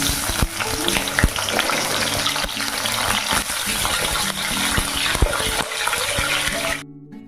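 Potatoes with egg and meat fry in a home kitchen with a loud, steady hiss and bubbling sizzle, close and continuous, with the sound cutting off abruptly at the end.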